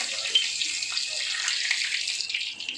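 Cumin seeds dropped into hot peanut oil for a potato dish, a steady close hissing sizzle that holds evenly for a few seconds with no talking.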